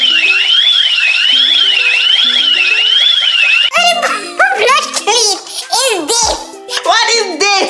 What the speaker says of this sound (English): In order to turn off the alarm, enter the alarm code and press.